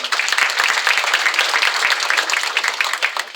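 A hall audience at an academic year inauguration at a University of the Third Age in Ostrów gives the audit committee members dense, steady applause of many hands clapping, lasting throughout and easing slightly at the end.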